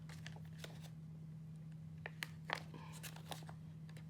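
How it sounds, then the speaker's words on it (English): A clear stamp being peeled slowly off its backing sheet during a card-making session with a hot foil machine, giving soft crinkly tearing sounds with a few sharper pops, faint over a steady low hum. "And now, let's peel it back."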